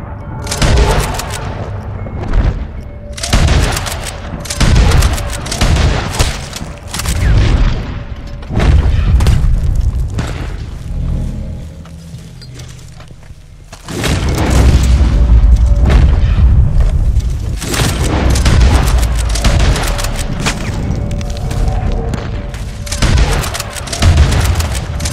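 Gunfire in the Western online game Red Dead Online, dense booming shots and rapid volleys during a fight with bandits over a wagon, loud and continuous, with a sustained rumbling stretch in the middle.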